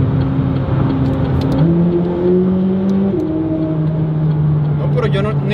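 A McLaren 540C sports car accelerates hard, its engine note climbing in steady stepped tones close by, with people talking over it inside the cabin.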